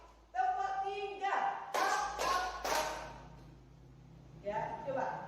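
A teacher leads a rhythmic clapping routine in groups of sharp claps, with sung or spoken counting between the bursts, close and clear in a classroom.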